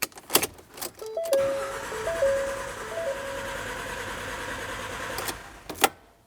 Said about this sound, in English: We're going to attempt to start the vehicle. You may find it starts and stalls out,